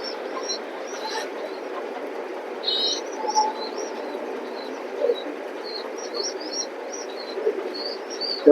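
Racing pigeons at a pigeon loft coo in a steady, overlapping low murmur, with faint higher chirps scattered throughout.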